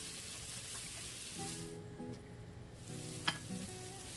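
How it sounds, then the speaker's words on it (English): Tomatoes fry in a pan for a chicken and vegetable stir fry, a faint low sizzle with soft stirring scrapes and one brief sharp tap, heard close but quiet, without talk. "We continue stirring until it's a little soft."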